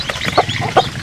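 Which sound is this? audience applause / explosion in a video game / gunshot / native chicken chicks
native chicken chicks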